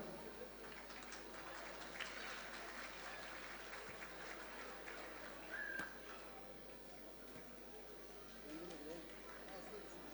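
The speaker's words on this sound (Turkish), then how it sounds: "Bir de onları alkışlayalım." Faint, distant applause from a village association's traditional evening gathering, steady clapping with voices talking over it.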